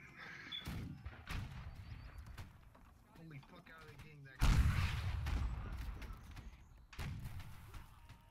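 A mortar firing in the video game Holdfast, a sharp deep boom punching through midway and trailing off, among scattered thumps and shots, with people talking throughout.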